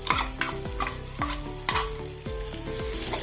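Split moong dal sizzles as it fries in a pan, with a spoon stirring it in repeated scraping strokes, close and clear with no talking.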